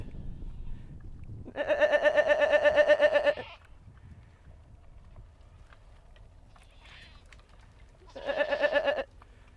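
Old Irish goats of a bachelor herd on Howth Head bleat a warning, two loud, wavering calls close by, the first lasting about two seconds, the second a shorter one after a pause, over faint outdoor background.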